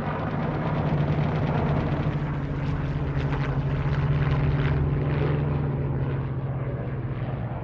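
WWII torpedo planes and level bombers drone overhead during a carrier battle dogfight, a continuous loud propeller-engine roar holding steady throughout with no voices.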